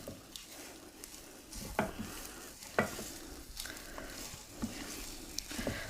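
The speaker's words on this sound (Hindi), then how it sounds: "तो यहाँ पे आलू की अच्छे से भुनाई कर ली है मैंने सारी चीज़ों के साथ" Potatoes fry in a pan while being stirred, a quiet continuous sizzle broken by repeated scraping strokes of a spoon against the pan every second or so.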